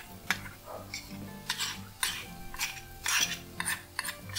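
Metal spoon stirring and scraping in a pan as gram flour paste is mixed into an egg curry, a series of close clinks and scrapes at an irregular rhythm, with no talking.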